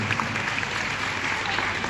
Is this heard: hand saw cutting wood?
no